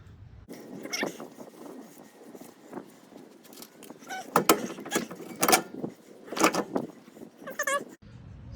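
Metallic clanks, scrapes and knocks as a brake drum and hub are pulled off a car trailer axle with bearings, coming in irregular close bursts, loudest toward the end.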